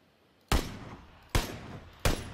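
Three sharp, loud gunshots in PUBG, spaced unevenly about a second apart, each with a quick crack followed by a lingering tail that fades before the next shot.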